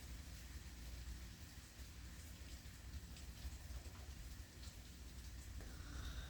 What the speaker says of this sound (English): It's a rainy, stormy morning